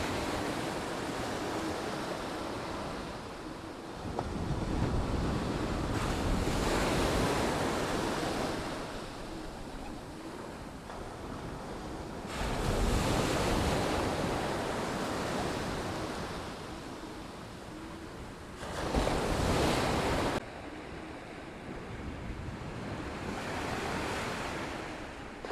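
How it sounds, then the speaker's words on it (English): Ocean waves surge and break in repeated swells, loud and close, with broad roaring wash and periodic louder crashes. "Let's listen to the waves."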